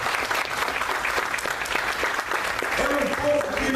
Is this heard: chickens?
no